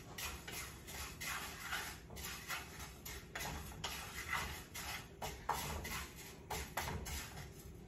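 Rice grains dry-frying in a pan without oil for Vietnamese pork porridge, giving a steady crackling, rustling sizzle with repeated scraping stirs close by, continuous throughout.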